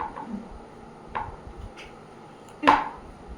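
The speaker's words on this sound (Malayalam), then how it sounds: "ഇത് ഒരു തക്കാളി കത്തി ഉപയോഗിച്ചിട്ട് ഞാൻ അരിയാണേ" A few soft knife cuts through a tomato on a board, sparse and close, the last one sharper and louder, in a quiet room.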